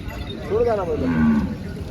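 A single bull moos once, a rising then falling low call, close by over a faint background murmur at the Malegaon cattle market.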